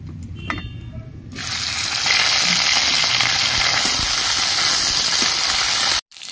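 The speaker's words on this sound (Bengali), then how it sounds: "কড়াইয়ের তেল গরম হয়ে গেছে, এবার আমি ঢেঁড়স পোস্তটা করে নেব।" Okra goes into hot oil tempered with nigella seeds. A few sputters and pops of the seeds are followed by a loud, dense sizzle that holds steady for several seconds and then cuts off sharply at the end.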